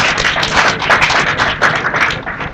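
Students applauding in a lecture hall during a guest lecture on web development, a dense, steady patter of many hands clapping at close range for the whole stretch, with no talk over it.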